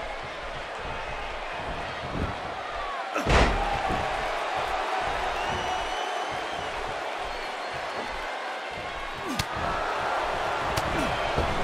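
A packed Seattle arena crowd in the wrestling video game WWE 2K18 roars in a steady, loud wash of cheering, with a couple of sharp slam impacts cutting through the noise.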